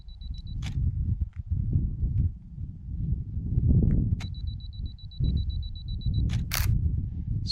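A DSLR camera's two-second self-timer beeps in short high tones, then the mirror flips up and the shutter clicks sharply, outdoors in Joshua Tree National Park over a steady low rumble.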